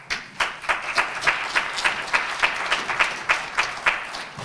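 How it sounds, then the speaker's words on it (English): Steady applause from an audience, a crowd clapping together with a dense, rhythmic patter that holds at an even level throughout. "give him a warm round of applause"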